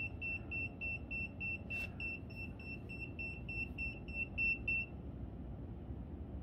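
ERICKHILL electromagnetic field radiation detector sounding an alert, a rapid, steady train of high electronic beeps that runs for about five seconds and then stops, clear over a quiet room hum.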